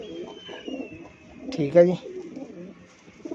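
Golden pigeons kept for sale, a flock of twenty-two, coo softly in low, throaty bursts close by. Someone talks over the cooing and a faint whistle-like tone drifts in the background.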